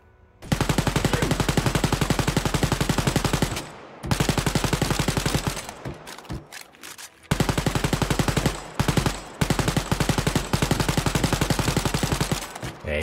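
Automatic machine gun fire in the shooter game Wolfenstein Youngblood, loud rapid bursts of several seconds each, broken by short pauses and a few stuttering shots.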